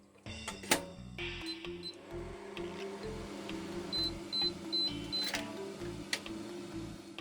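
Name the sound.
microwave heating mochi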